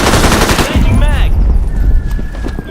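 Rapid automatic gunfire in a first-person shooter video game against bots, loud and dense bursts filling the clip, with a brief voice cutting in partway through.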